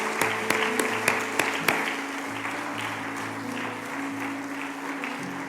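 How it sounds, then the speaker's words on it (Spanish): A congregation at a church service claps, applause with a few sharp close claps at first then settling into steady, moderately faint clapping that continues to the end. "Un fuerte aplauso para Dios"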